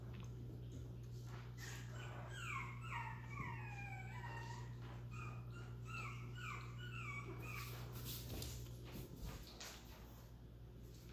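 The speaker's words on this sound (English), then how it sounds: "I think this is the puppy who was whining." A Chihuahua puppy whines in a string of short, high, falling whimpers, close but soft, over a steady low household hum, followed by a few clunks and knocks.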